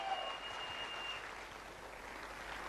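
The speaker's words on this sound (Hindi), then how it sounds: "खड़े होकर जोरदार ताली बजाई" Standing ovation at a speech event, a broad wash of crowd clapping heard at a moderate distance, steady and fairly quiet throughout the short stretch with no talk over it.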